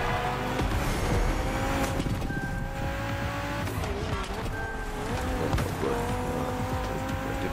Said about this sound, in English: We have prepared a classic for you from a very famous German brand, BMW Z4 M40i.